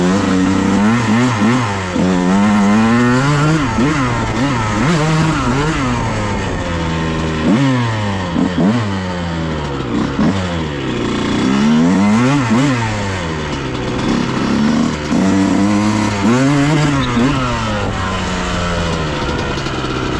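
A 2001 Honda CR 125 two-stroke dirt bike running cold in muddy conditions, its engine loud and close, blipping and revving in uneven surges that rise and fall for the whole stretch with no talk.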